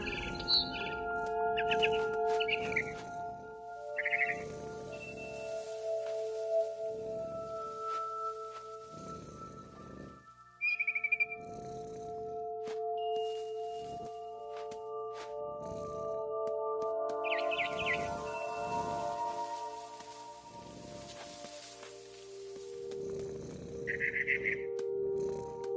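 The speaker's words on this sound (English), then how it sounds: "Then I heard chirping outside my window. It was a barn swallow going back to her nest." Birds chirping and calling in short bursts from a barn swallow scene in the video game What Remains of Edith Finch, scattered tweets over a steady ambient game background with low tones.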